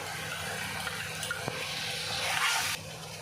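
Turmeric and salt roasting in a pan for keema give a steady, quiet sizzle with a soft stir or scrape near the middle, rising a little before cutting off.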